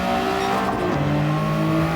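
A car drifts through a long slide in the racing game Gran Turismo 7, its engine holding a steady sustained tone while tyre noise hisses underneath, loud and continuous with no one talking.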